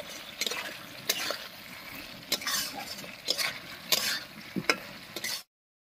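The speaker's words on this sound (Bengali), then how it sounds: "এবারে আলু আর মশলার সঙ্গে পটলটা কষিয়ে নেব।" Pointed gourd and potato pieces sautéed with spices in a pan, a soft sizzle running underneath as a spatula scrapes and stirs in sharp, irregular strokes every second or so, close and clear with no talking.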